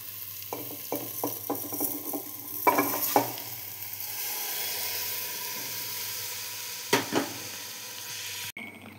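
Meat and rice frying in oil, stirred in a pan: a steady sizzling hiss under a run of rhythmic scraping stirs at first, then a louder sustained fry with occasional clanks, close and unvoiced.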